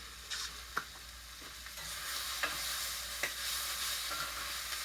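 A mixture is stirred in a hot pan, a soft continuous sizzle punctuated by intermittent scraping clicks of the utensil, fairly quiet and close, with no talking.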